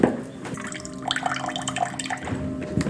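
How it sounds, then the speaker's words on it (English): Cold tap water running from a kitchen faucet, a steady close splashing stream with small drips and liquid gurgles throughout, no talking. "This is our cold water pressure in the kitchen."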